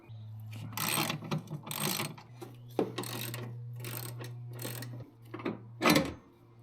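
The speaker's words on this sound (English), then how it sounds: "I'm just gonna start removing bolts and hoping for the best." Bolts being removed while lowering a car, with ratcheting clicks and metallic mechanical bursts over a steady low hum, irregular and fairly close.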